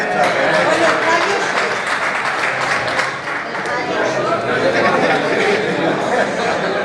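Applause and crowd murmur fill the room at a trade union forum meeting, a dense steady clatter of many hands close by, with voices chattering underneath.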